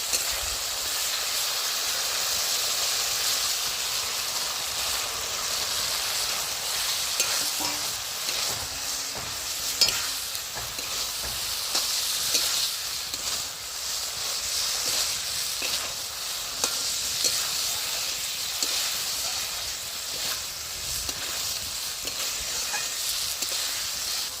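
Pointed gourds (potol) frying in a spice paste of poppy-seed masala with oil: continuous hissing sizzle with occasional stirring clicks, steady and close, no speech.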